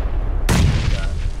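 A single sudden, loud grenade blast in the battle royale game PUBG, a sharp boom that rings out and decays over about a second.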